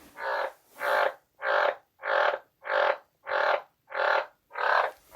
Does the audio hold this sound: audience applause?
no